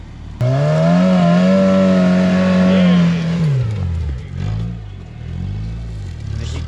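A Toyota rock buggy engine revs and holds a loud, steady high-idle drone while rock crawling, then drops off into lower, lumpy throttle blips and surging revs.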